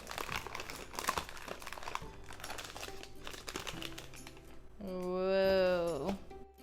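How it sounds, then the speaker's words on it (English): A knife chops chocolate on parchment paper laid over a board, making a run of crisp crinkling, crunching cuts. Near the end, a voice speaks over the chopping. "open up your chocolate and we're gonna chop it on here."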